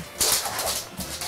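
A happy dog makes excited whimpering, snuffling sounds up close in an indoor room, in short bursts with no talking.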